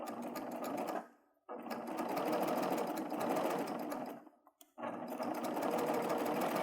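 Serger running at speed as it stitches knit fabric, a steady close whir in three bursts with two brief pauses between them, no talking.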